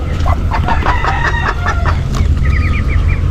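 A Brahma chicken clucks close by in a backyard coop near its laying spot, giving a run of short, repeated clucks, while a rooster crows in the background over steady farmyard noise.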